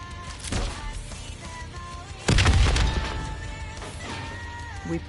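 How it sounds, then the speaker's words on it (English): A large explosion in a combat shooter game booms loudly, then a second heavier blast hits around the midpoint with a rumbling crash that slowly decays beneath tonal game music. "The explosion blocked our path."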